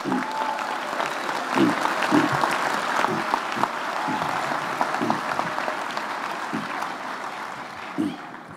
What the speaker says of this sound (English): let us give a deserved round of applause to all our masters and doctoral graduates